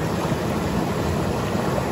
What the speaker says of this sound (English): the rapids get so steep I can't go any farther